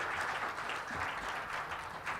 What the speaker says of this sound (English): Please give once again a big applause to our two speakers.